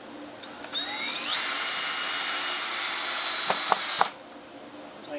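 A power drill drives screws into a wooden sawhorse leg, a high whine that ramps up in pitch and holds steady for a few seconds, then stops with a couple of sharp clicks.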